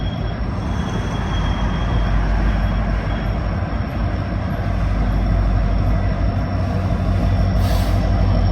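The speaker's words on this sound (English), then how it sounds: "Yes, this is a manned helper consist, SD70ACUs." Norfolk Southern SD70ACU helper locomotives roll past under dynamic braking on a mountain grade near Altoona, giving a loud, continuous, rumbling roar of engines and wheels that stays steady throughout.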